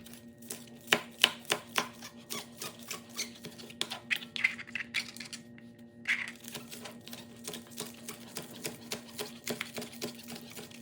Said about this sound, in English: I'm going to chop up some green onion next